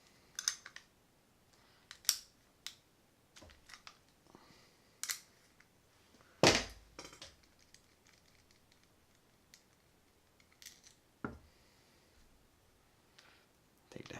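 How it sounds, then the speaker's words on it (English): Metallic clicks and scrapes ring out sparsely as a 10mm wrench works the nut off a Shimano Caenan 150 baitcasting fishing reel, close and quiet with irregular ticks and one sharper clack. "I'm going to use my 10mm wrench to take the nut off while holding down on the star drag"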